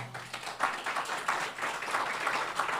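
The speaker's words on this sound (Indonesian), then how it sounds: "Tepuk tangan yang meriah buat Tuhan" A church congregation claps for God at an Indonesian worship service, producing a lively, continuous patter of hand claps at moderate volume with little talk over it.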